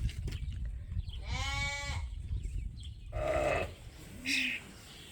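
Sheep on a sheep farm bleat three times, one long wavering cry followed by two shorter calls, close and clear over a low background rumble, with no talk.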